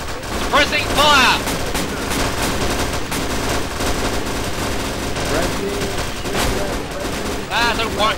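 Rapid bursts of gunfire from a video game's Shukurkulay Sweep event fill the clip, loud volleys and fusillades overlapping continuously, with voices calling out over the shooting.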